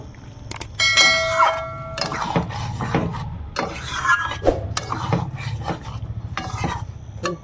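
A spoon scrapes and stirs a cauliflower roast in a cooking pan, steady close rubbing and clinking strokes over a soft sizzle, with no voices.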